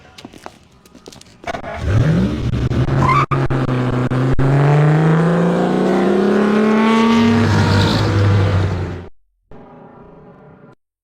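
A car's engine revs up and pulls away, loud and close, with a rising whine and a steady drone that fades out near the end.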